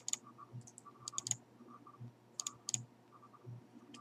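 A computer mouse clicks faintly and sharply in small scattered bursts during a game mod setup, with a few quick double clicks over a quiet room.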